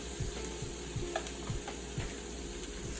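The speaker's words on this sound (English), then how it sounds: "We're gonna stir them up, fry them for about maybe 5 minutes," Shrimp fried rice with chow mein noodles, seasoned with salt and pepper, crackles steadily in a pan while a utensil stirs it in a few soft, regular scrapes. No voices are heard.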